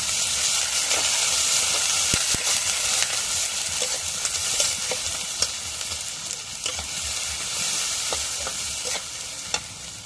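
Oil sizzles in a hot pan for chicken bhuna, a loud steady hiss with a few sharp clicks and taps from a spoon against the pan.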